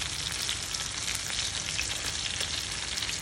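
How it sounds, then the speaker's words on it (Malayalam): Rava-coated Goa-style fish fries in hot oil with a dense, steady sizzle and crackle that stays close and even throughout, with no one speaking. "ഇതുപോലെ നല്ല ബ്യൂട്ടിഫുള്ളി ഗോൾഡൻ കളറിൽ വറുത്ത് വന്നിരിക്കുകയാണ് നമ്മുടെ ഫിഷ്."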